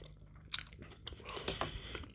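Someone bites into and chews a crunchy grilled cheese sandwich made with jalapenos, giving a few sharp close crunches followed by softer, irregular chewing, fairly quiet with no talk.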